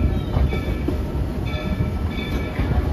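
A Walt Disney World Railroad steam train rolls into Main Street Station, with continuous rumbling wheels, rhythmic clickety-clack and faint squeals, heard fairly close and steady throughout.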